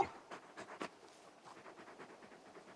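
Torgal, the large wolf-like hound in Final Fantasy XVI, pants in quick soft breaths, a few louder huffs early on, then a steady faint rhythmic panting alone.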